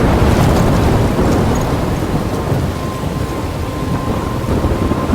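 A Life is Strange storm roars loud and close, with heavy rain, gusting wind and rumbling thunder forming a dense, continuous wash with no voices.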